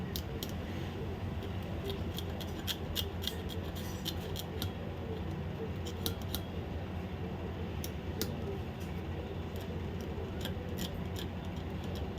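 A blade scrapes the circuit board of a Carrier AC remote in small, faint, irregular scratches and ticks over a steady background hiss.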